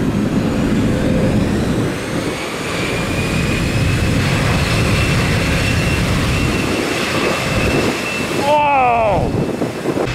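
Sustained roaring jet blast from airliner engines at Tampa International Airport during Winter Storm Elliott, a loud continuous close rush with a high whine and a rising squeal near the end.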